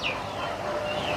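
Chickens on a small home farm cluck loudly and close by as rice-based feed is mixed for them, a brief burst of busy fowl calls.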